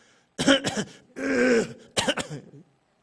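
A person with a cold coughing and clearing their throat in three close, distinct bursts, the middle one longer and rasping, set apart by brief silences in a quiet room.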